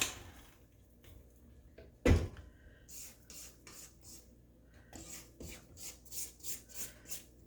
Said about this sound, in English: I'll scrape down the bowl.